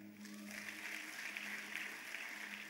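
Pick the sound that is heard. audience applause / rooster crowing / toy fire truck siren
audience applause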